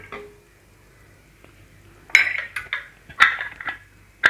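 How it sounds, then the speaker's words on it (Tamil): A ladle stirs cooked toor dal in a pressure cooker, starting quiet and then giving several sharp metallic clinks and scrapes against the pot in the second half, close up with no voices. "கரண்டியை வச்சு கலந்து விட்டுப்போம்."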